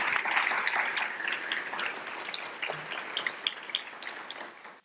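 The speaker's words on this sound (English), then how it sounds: "Can I get a big round of applause for everybody?" A staff audience at a University of California Riverside forum applauds the panel, a modest round of clapping that starts fairly full and thins out into scattered individual claps as it dies down.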